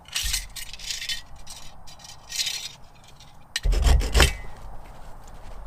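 A saw rasps through a small piece of fatwood, short scraping strokes in bursts with pauses between, close and fairly loud, ending in a heavier crunch as the piece breaks off.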